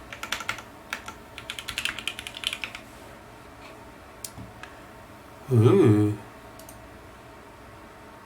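Keystrokes rattle quickly on a custom mechanical keyboard with a polycarbonate full plate and gaskets, a close, dense burst of clacky typing followed by sparse clicks, with a short exclamation from a voice.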